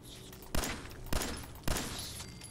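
Three evenly spaced gunshots in the video game Fallout 4 ring out over a steady background hum, each a sharp, moderately loud crack.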